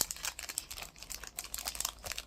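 Plastic packaging crinkles and tears in quick irregular bursts as a small notebook journal is unwrapped close up, with brisk rustles and crackles and no talking.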